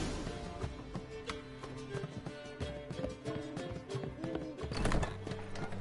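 Roach, the horse in The Witcher 3, gallops with a steady drumming of hooves, blended with game music and ambient sound throughout.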